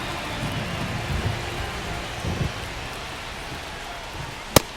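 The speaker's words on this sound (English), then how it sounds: "This rain is not letting up." Heavy rain falls steadily during a baseball game between the Texas Rangers and Detroit Tigers, a dense broad hiss with a few soft low rumbles and one sharp crack near the end.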